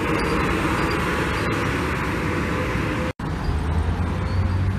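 STJ Hino RN bus at the Bawen toll exit, a continuous roadway rumble of an engine and traffic that holds steady and is broken only by a very short dropout.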